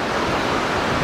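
High seawater washes against and over the seawall steps at Burnham-on-Sea, Somerset, as one brief, loud, continuous rush of surf.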